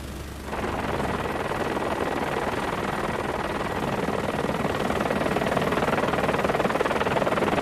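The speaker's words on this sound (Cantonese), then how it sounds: "飛行服務隊立即派出3架直升機協助救援" Helicopters sent to fight a hill fire drone with a steady, dense, loud rotor roar. It starts after a brief quiet moment and then holds unbroken all the way through.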